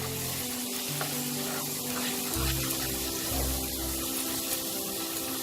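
Bengali fish curry masala for katla tel jhal sizzles in oil as a little water goes in, a steady close frying hiss with low bubbling surges, no voices.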